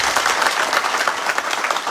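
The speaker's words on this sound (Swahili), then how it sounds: "Tumpigie makofi." Audience applause for a Kikuyu MP at a public gathering, dense steady clapping from a crowd, loud and sustained throughout without pause.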